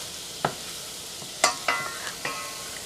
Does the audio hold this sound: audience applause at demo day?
no